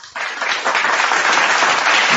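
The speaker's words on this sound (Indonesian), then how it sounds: "Kita sambut saudara kita yang berkualitas ini dengan tepuk tangan yang meraih." Audience applause at a talk event, a burst of dense clapping that swells quickly and holds loud and steady.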